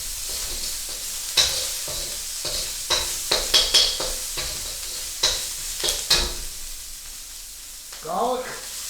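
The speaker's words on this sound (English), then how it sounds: "we're going to start with onion and garlic. Doing this like a stir fry." Onion and garlic stir-fry in extra light olive oil for pancit bihon, a close, continuous sizzle broken by repeated sharp clacks of a utensil stirring against the pan.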